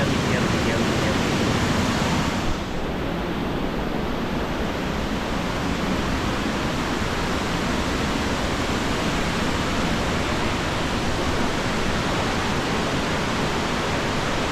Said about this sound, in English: that's a 10 out of 10 waterfall